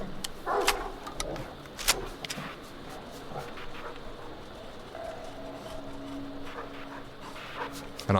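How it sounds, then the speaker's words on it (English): Dogs barking in the video game STALKER 2: Heart of Chornobyl, with several sharp yips and barks early on over a steady background drone, plus a voice talking. "Really need to drop the dogs just so I'm not worrying about them."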